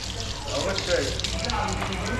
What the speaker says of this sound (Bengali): আমরা এখানে হাতটা ধুয়ে নেই